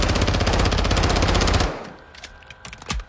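An automatic gun fires a rapid, loud burst in a shooter video game for about one and a half seconds, followed by scattered fainter in-game clicks and thuds.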